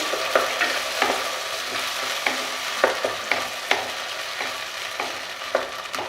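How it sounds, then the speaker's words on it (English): Ginger and garlic paste frying in a pan while being stirred, with a constant sizzle broken by regular sharp spoon scrapes and taps against the pan, close up and without speech. "Then I will add ginger paste and garlic paste. Let's mix it all well."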